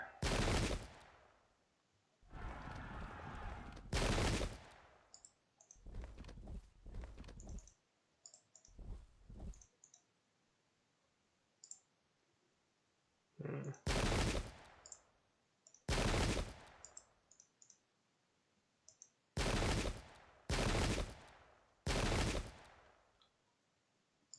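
Musket volleys crackle through a Pike and Shot battle set in the English Civil War, with loud separate bursts of gunfire and rattling salvos spaced by quiet gaps.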